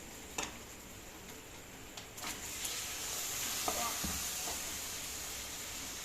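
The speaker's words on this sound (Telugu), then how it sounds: "ఉల్లిపాయలు, పచ్చిమిరపకాయలు, అల్లం వెల్లిగడ్డ పేస్ట్, చికెన్ వేసుకుంటుంది." Onions, green chillies, ginger-garlic paste and chicken fry in a pan, giving a faint, steady sizzle with a few light stirring taps and clicks scattered over the stretch.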